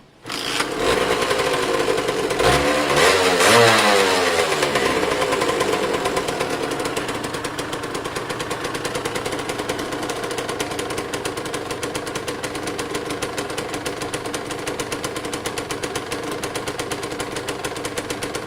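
A Kawasaki KDX 125 two-stroke dirt bike engine runs on choke with a steady, buzzing idle. It swells briefly near the start, then holds an even, close, continuous drone throughout.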